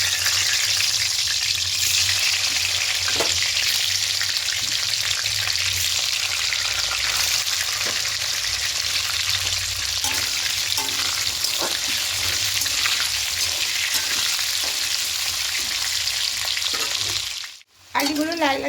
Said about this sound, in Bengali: এবার আলুগুলোকে প্রথমে ভেজে নেব।